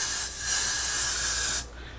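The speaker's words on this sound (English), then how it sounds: "I'm about to spray them with the freeze spray." Freeze hair spray hisses in a steady, close burst onto faux edges along a hairline, lasting most of two seconds before cutting off sharply, with no talking.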